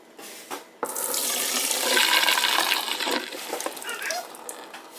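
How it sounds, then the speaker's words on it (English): Water pouring and splashing into a sink as cooked pasta is drained, a steady rushing gush for several seconds that tapers slightly, with no talk. "we're going to take it and we're going to drain the water out"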